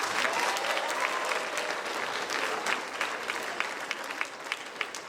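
An audience at a speech event claps continuously in a dense, even wash of applause, with a few sharper individual claps standing out near the end.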